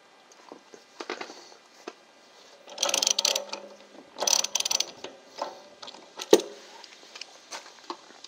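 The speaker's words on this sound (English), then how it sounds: "We're going to use a 1 1/16 inch socket and a ratchet to get this off." A 1 1/16 inch socket on a ratchet with an extension loosening the anode rod of an RV water heater: bursts of close, rapid ratchet clicking separated by pauses, with metallic handling clatter and no talking.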